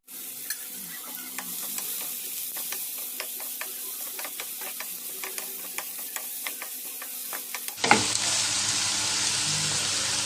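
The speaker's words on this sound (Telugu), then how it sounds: "కొద్దిగా ఆనియన్స్ పచ్చిమిర్చి బాగా మరిగిన ఆయిల్ వేసుకోవాలి" Onions and green chillies go into hot oil for an egg dish, with light ticking stirring at first and then a sudden loud, sustained sizzle heard close by.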